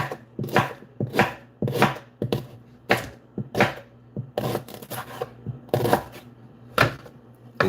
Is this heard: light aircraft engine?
no